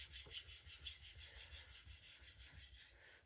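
A MagnaCut steel knife blade strokes back and forth across Poltava diamond sharpening plates, about 600 grit. The gritty scraping rubs come close and faint in an even rhythm of about four strokes per second, with no talking.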